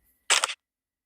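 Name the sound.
smartphone camera taking a photo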